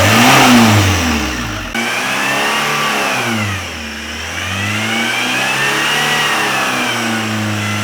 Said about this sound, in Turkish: Gaz ver ağır. Gaz verelim.